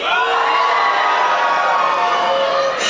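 Fans in a packed convention hall at a K-Pop Demon Hunters panel, Megacon 2026, scream and cheer in one continuous loud roar of high voices that holds steady before cutting off abruptly.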